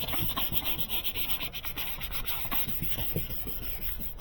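Steady, continuous hand sanding of a 2013 Honda Pilot headlight lens with a dry, gritty rasp, close up and alone, with a fairly even back-and-forth rhythm.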